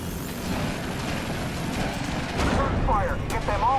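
Gunfire from the Iron Horse map in a video game rings out in steady bursts at moderate loudness, mixed under continuous game noise and voice chat.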